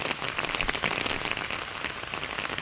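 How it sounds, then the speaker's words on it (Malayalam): Steady rain pours down outdoors on a morning, a dense, even hiss of drops striking surfaces that fills the whole stretch with no voices. "നല്ല മഴയത്താണ്."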